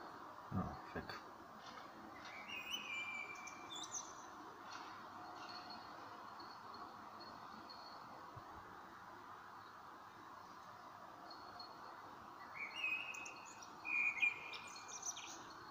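Faint bird chirps and tweets come from a distance outdoors near a construction site, set against a steady low rumble of background noise with a few brief louder calls toward the end.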